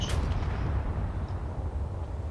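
Mortar fire and explosions in the Space Engineers video game, an RTS scenario: a sharp opening blast followed by a deep, continuous rumbling roar that fills the clip, with no voices.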